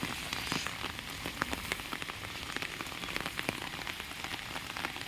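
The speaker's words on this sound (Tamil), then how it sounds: "இதெல்லாம் வீடு பக்கத்தில் இருக்கிற இடமும் ஃபுல் அண்ட் ஃபுல் மழையாக இருக்குது. ஹெவி மழை." Heavy rain pours steadily near houses in a village, a dense, even hiss with sharp drops pattering close on nearby surfaces throughout, no voices.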